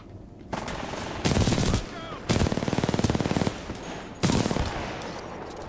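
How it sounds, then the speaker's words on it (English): Bursts of automatic weapon fire in the video game Titanfall 2, loud rapid rattling volleys in several long strings separated by short gaps, close up over a steady game background. "That's a lot of gunfire."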